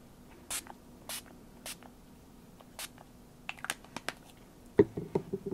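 Several quick, short hissing bursts of Glimmer Mist chalkboard spray misting onto paper, fairly faint, followed by soft tapping and rustling sounds near the end.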